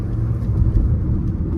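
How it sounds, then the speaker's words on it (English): A loud, steady low rumble of a Kia Seltos engine pulling in third gear, heard from inside the cabin without any talk. "now I'm lifting the car from the third gear"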